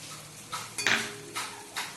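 Cumin powder, garam masala and chilli powder being stirred in a cooking pan, a few distinct metallic scrapes and clinks of a spoon against the pan over a faint background, close by with no voices.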